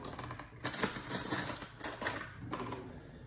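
Metal fork pricking pasta frolla dough in mini tart pans, a string of small irregular taps and clicks against the tins, close and light, with no talk.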